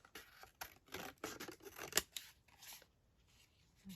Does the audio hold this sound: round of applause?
no